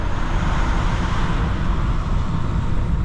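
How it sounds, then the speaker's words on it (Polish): A 2013 Mercedes E200 with a 2.0 turbo petrol engine and stock exhaust cruises at speed, steady broadband road and wind roar heard from inside the car, with the engine itself barely audible beneath the constant rush. "Więcej tutaj słychać szum niż dźwięk silnika,"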